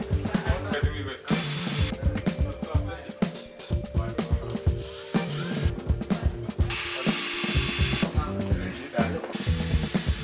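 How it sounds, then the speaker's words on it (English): Loud, continuous hammering of a drill biting into concrete, a harsh rattling rhythm that barely lets up, with voices faintly underneath. "the concrete is so hard to drill it"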